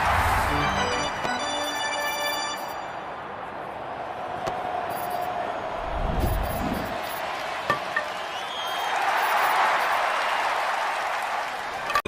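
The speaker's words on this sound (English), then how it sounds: "They're cheering for their players." A baseball stadium crowd at the MLB All-Star Game cheering and applauding, as a broad distant roar that swells and fades, with scattered claps and thumps and a voice talking over it.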